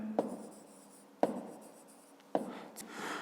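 Pen writing on paper during a fifth-grade maths exercise, with three short scratchy strokes at close range separated by quieter stretches of soft scribbling.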